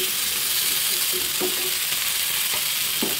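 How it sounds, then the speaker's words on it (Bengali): Potatoes sizzle loudly in hot oil with salt and turmeric, a constant close crackle broken by a few scraping stirs of the spatula, with no talking. "ডিমে দেওয়ার জন্য আলুগুলো ভেজে নিচ্ছি ডিমের মতো সেমভাবে, লবণ হলুদ দিয়ে"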